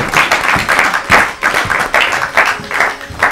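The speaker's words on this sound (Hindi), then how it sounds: "ताली बजाइए उनके लिए" A studio audience claps for a prize winner on an Urdu quiz show, a loud, dense burst of applause with rhythmic surges that carries through the whole stretch.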